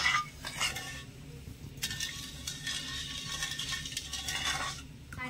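Sugar syrup with cardamom is stirred in a metal pot, giving intermittent clinks and scrapes of a utensil against the pot, close and moderately loud, with short pauses between strokes.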